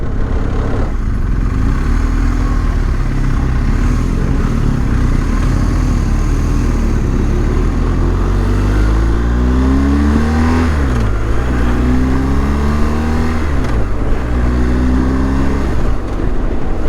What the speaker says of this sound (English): Just love the insane pickup of this motorcycle.